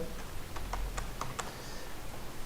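Keys tapped on a computer keyboard in a quiet room, a short burst of about seven light, evenly spaced clicks in the first second and a half, then faint background hiss.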